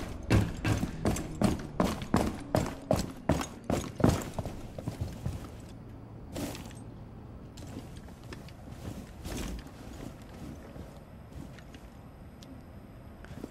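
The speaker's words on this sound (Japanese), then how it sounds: "足音がする。" An enemy moves through a Rainbow Six Siege map, giving a rapid run of heavy, evenly spaced thudding footsteps that start close and loud, then thin out into scattered fainter steps and knocks.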